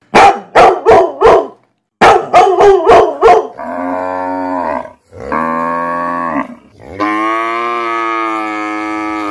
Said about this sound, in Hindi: गाय बहुत तेज चिल्ला रही है